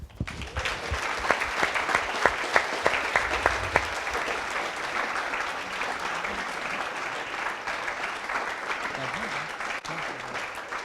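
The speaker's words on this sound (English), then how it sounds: "they all deserve a big round of applause" An audience claps for coding bootcamp demo day teams in Montreal, dense sustained applause with a few crisp nearby claps early on, gradually settling into a softer wash with faint murmuring toward the end.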